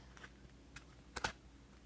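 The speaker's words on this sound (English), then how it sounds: "we'll cut the deck" A tarot card deck being cut by hand during a reading, giving a few soft, quick papery riffles and taps, with the sharpest pair of card slaps close together near the end, fairly quiet and with no talking.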